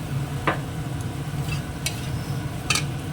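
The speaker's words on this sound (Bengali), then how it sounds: "অনেকটা কষানো হয়ে গেছে তেল ছাড়তে শুরু করেছে আর একটু তেল দেবো" Spice paste with coriander leaves frying in oil in a pan, a steady low sizzle broken by a few sharp scrapes and clinks of a spatula stirring, close and without talk.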